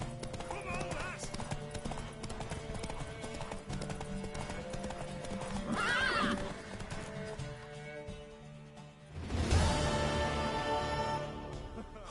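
Rhythmic hoofbeats of a horse clip-clop steadily through a scene in The Witcher 3: Wild Hunt, with a whinny and background music, followed by a louder burst of sound.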